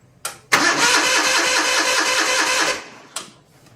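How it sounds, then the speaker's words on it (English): A John Deere 318 lawn tractor with a weak battery cranks over in one long buzzing, whirring churn of the starter lasting a couple of seconds, bracketed by short clicks and brief stabs before and after, close and loud. "Let's go see if it'll crank."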